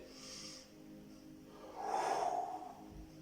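During a Pilates workout, a person breathes audibly, with a soft breath followed by a louder, forceful exhale or snort-like puff, close and alone with no talking.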